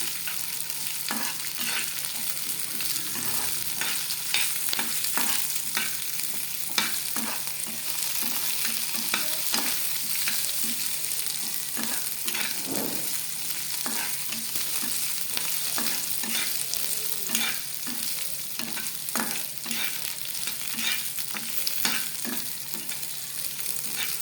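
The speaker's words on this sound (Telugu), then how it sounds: "ఇలా పోపును బాగా ఫ్రై చేసుకోవాలి" Popu tempering with curry leaves fries steadily in a pan for a coconut-peanut chutney, a continuous sizzle broken by regular scraping strokes of a stirring spoon, close and alone.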